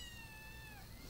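A cat lets out a single drawn-out, high meow that slides slightly downward, heard faintly over a steady background hum.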